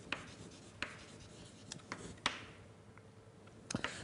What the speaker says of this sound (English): So let me write this as a lemma.